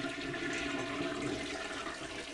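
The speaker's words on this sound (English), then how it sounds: "you could see it's a very solid stream of water. Doesn't have an aerator in it." Bathroom sink tap with no aerator runs a solid, steady stream of water that rushes continuously and evenly, close by, with no talking.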